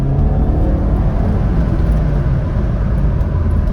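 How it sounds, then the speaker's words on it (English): A 2004 PT Cruiser GT with a five-speed manual pulls hard in second gear, its engine drone loud, steady and continuous from inside the cabin, with no talk over it. "just do another second gear pull here"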